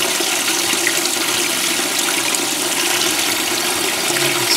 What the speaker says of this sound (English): Now it should rise to that water level and go into wash mode.